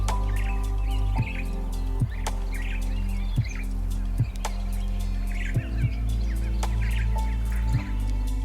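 A Cape starling calls outdoors in South Africa's Augrabies Falls National Park, giving short, scattered chirps and whistles over a loud, steady low hum that is broken by periodic clicks.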